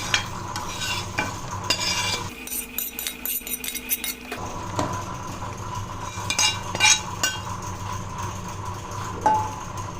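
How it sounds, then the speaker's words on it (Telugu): Hot tempering goes into boiled lentils in a pot, with a brief sizzling rush followed by close metallic stirring and scraping that carries on steadily with no talk. "ఈ వేడైన పప్పులో ఈ తాలింపు వేసేసుకోవాలి"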